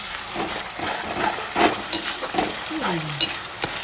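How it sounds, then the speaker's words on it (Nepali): Papad frying in hot oil in a home kitchen, a steady close crackling sizzle with bubbling bursts throughout. "यता पापड फ्राई भइरहेछ हेर्नु"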